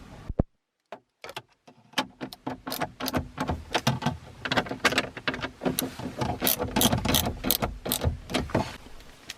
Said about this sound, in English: And you can go to a ratchet.